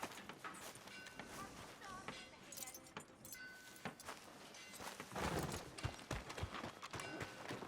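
Horse hooves clip-clop at a walking pace in the video game Red Dead Redemption 2, faint and mixed with jangling tack and soft background noise.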